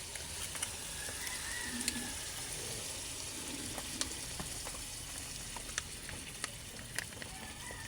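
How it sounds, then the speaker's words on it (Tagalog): Coconut milk poured into a simmering pot of kare-kare, producing a soft continuous sizzle and bubbling with scattered faint clicks of a spoon, quiet and close with no one speaking. "Lagyan na natin siya ng gata."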